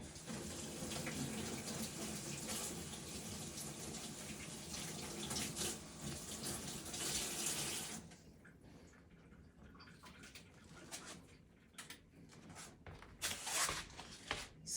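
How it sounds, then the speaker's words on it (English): A kitchen tap runs steadily as pepper and scallion are rinsed under it for about eight seconds. The flow then stops, leaving intermittent splashes, drips and handling noises at a quieter level, with no talking. "I'm gonna be washing the pepper and the scallion"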